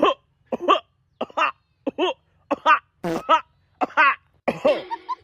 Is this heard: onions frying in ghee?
no